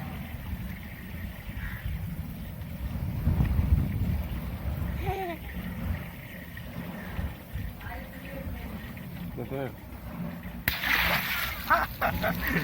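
Large water balloon holding 5 litres of water bursting outdoors, a sudden loud splash late in the clip after stretches of rustling and people talking nearby.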